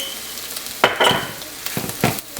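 Chili powder and masala for a red fish curry sizzle and fry in a pan over lowered heat, with broadband bursts of stirring that rise and fall across the short stretch, close and moderately loud with no talk.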